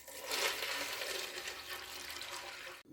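Water pours into a pot of dried beans on the stove, a continuous splashing gush that swells early and then runs on steadily before stopping abruptly.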